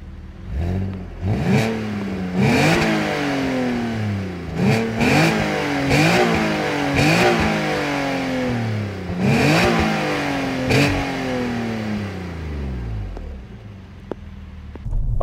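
An Alfa Romeo GT 3.2 V6 Busso engine revs hard and repeatedly, pitch climbing to a high scream around 7000 rpm before each sharp drop, then winds down as it decelerates near the end.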